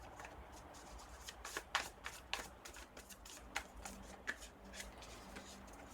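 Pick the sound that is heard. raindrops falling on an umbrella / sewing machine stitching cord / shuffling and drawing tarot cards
shuffling and drawing tarot cards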